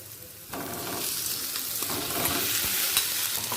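Pre-fried potato and pointed gourd tipped into spices sizzling in a pan for a vegetarian curry, a soft background hiss jumping to a fuller, louder frying crackle that stays dense with occasional clicks.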